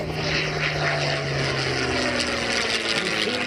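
Piston-engine propeller warbirds, a five-ship formation of P-51 Mustangs, a Spitfire and an F4U Corsair, roar past in a high-speed flyby, a loud, steady droning rumble with a sinking engine tone as they pass close by.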